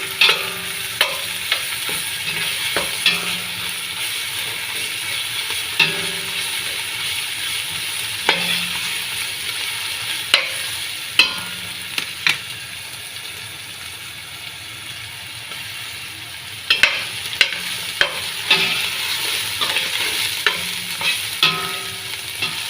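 Onions fry in a pan with pounded ginger paste, giving a steady close sizzle broken by occasional spoon scrapes and clacks against the metal, with no voices.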